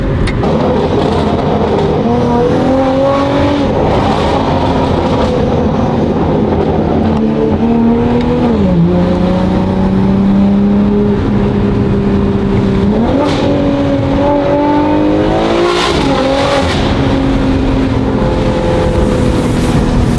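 A BMW G80 M3's S58 engine revs repeatedly through new midpipe and downpipes, its pitch rising and falling with a loud, throaty exhaust roar throughout.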